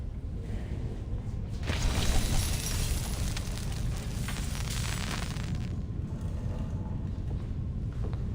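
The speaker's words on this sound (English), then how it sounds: "See, I can even put on my fireworks show again." Video game fireworks show, a continuous crackling, bursting barrage at moderate distance with overlapping pops and booms that swell in the middle and then ease off.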